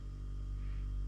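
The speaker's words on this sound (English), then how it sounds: "Sorry about the fridge." A refrigerator gives a steady, low mains-type hum that stays unbroken throughout, faint in level and without any voices over it.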